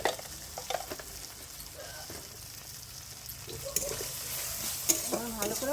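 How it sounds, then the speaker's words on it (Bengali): Chana dal with grated ginger, salt and turmeric sautéed in a pan over a wood fire, a continuous sizzle broken by scraping stir strokes and light clinks of the spoon, growing busier toward the end. "ভালো করে কষিয়ে নেব।"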